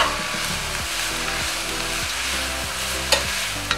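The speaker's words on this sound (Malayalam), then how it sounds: "പെട്ടെന്ന് ഇത് വഴറ്റാൻ വേണ്ടിയിട്ട്, വരളാൻ വേണ്ടിയിട്ട് നമുക്ക് ഉപ്പ് ചേർക്കാം." Onions and green chilies sautéing with salt in a pan for a mutton stew, with steady sizzling under rhythmic, repeated spatula scrapes and a couple of sharp clinks near the end.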